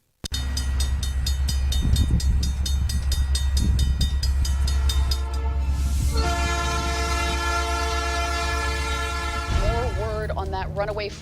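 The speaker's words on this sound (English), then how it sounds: "Runaway freight train in Pennsylvania." A runaway freight train in Pennsylvania rumbles heavily under a sustained, blaring horn that swells, breaks off and sounds again. A brief voice cuts in at the very end.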